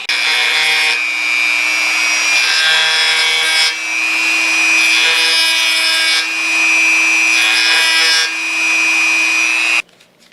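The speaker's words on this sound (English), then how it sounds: "What I'm going to use is a Dremel with a round bit on it, and I'm just going to lightly touch at the very top" A Dremel rotary tool fitted with a round bit grinds a small divot into the top of a 1911 extended slide stop, giving a loud, close, high-pitched whine in several long bursts with brief dips that ends abruptly.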